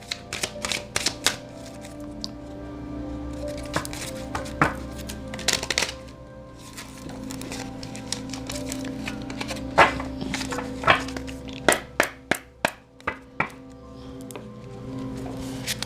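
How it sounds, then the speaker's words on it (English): Tarot cards are shuffled by hand in a series of sharp riffling bursts and slaps, close up, with quieter rustling between them and no talking. "I'm just going to give a light shuffle, okay?"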